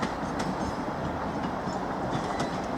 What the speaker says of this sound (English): we've got an East Midlands Railway Class 158 unit, now arriving from Liverpool Lime Street